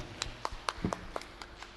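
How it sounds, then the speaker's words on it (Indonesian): A handful of people at an Indonesian village-enterprise (BUMDes) gathering give faint, sparse claps, about eight scattered hand claps across two seconds in a quiet room. "Tepuk tangan dulu untuk acara ini semuanya."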